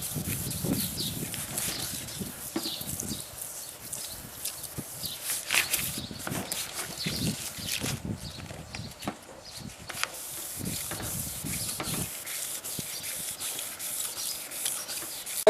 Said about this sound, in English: This is a 2000 grit sandpaper, and I'm going to wet sand here like so.